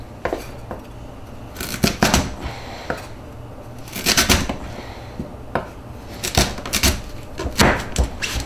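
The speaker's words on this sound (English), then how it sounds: "And then you just cut them right down, or you can make them even thinner." Knife slicing a sweet potato into fries on a cutting board, with sharp, close chops coming in quick clusters separated by short pauses.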